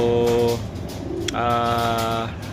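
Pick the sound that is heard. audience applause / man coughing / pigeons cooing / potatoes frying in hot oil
pigeons cooing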